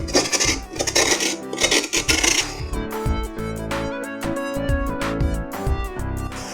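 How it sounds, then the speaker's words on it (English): Spoon or scraper rasping against the inside of a carved pumpkin for a Halloween jack-o-lantern, a close run of busy scraping strokes that settles into steadier, rhythmic scrapes with small knocks, no talk. "So I'm already scraping the inner part of the pumpkin."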